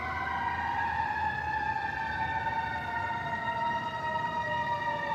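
A wailing siren sweeps steadily up and down in pitch, loud and continuous throughout, with a low rumble of traffic beneath.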